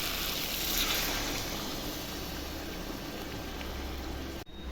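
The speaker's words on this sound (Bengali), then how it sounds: "এখন একটু জল দিয়ে দেবো, গরম জল দিব" Hot water goes into a pot of chicken curry after the meat has been browned, making a steady rushing, bubbling wash that stops sharply near the end.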